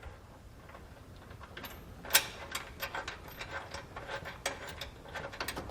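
A nut spun by hand onto a bolt over a split lock washer while fitting a Roadmaster Direct-Connect base plate kit, giving a run of small, close metallic ticks and clicks with one sharper clink.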